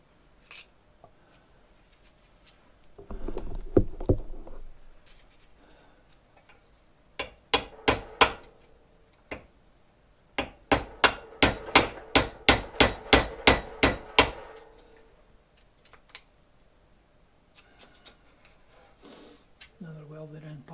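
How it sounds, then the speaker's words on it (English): A hammer taps repeatedly on a David Brown 996 tractor's steering ram to free it: first a short burst, then a scattered few, then a rapid run of sharp, close metallic knocks, with people talking around the strikes. "we're going to have to give it a tappy around first to get it to move"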